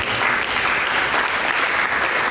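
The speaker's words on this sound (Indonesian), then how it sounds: "berikan tepuk tangan untuk Yesus" A church congregation applauds steadily, a dense, even wash of clapping from many hands filling the room without a break.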